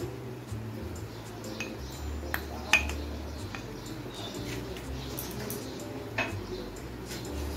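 Spoon stirring a paste of Kashmiri chilli powder, turmeric and water in a bowl, giving soft scraping and light repeated clicks of metal against the dish at close range.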